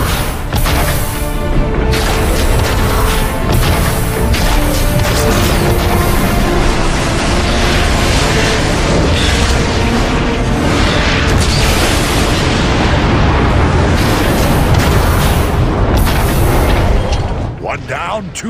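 A warp cannon is blown apart in the Transformers: Fall of Cybertron video game, with loud, continuous explosion booms and rumbling blasts that stay dense and heavy throughout before tapering at the end.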